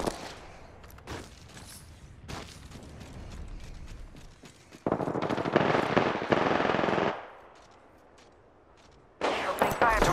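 Rapid automatic gunfire from the video game Apex Legends, loud and dense, with sustained bursts around the middle and again at the end, plus scattered single shots and mechanical clicks in between.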